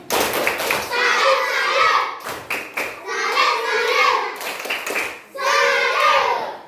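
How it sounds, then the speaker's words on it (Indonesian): A class of children performs a rhythmic salute clap in three bursts, each a flurry of hands and patting mixed with young voices chanting along, separated by short pauses with a thud or two. "Tepuk salut."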